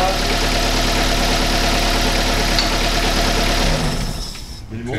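A car engine idles with a steady low rumble during a timing-chain check, then winds down toward silence as it is switched off near the end.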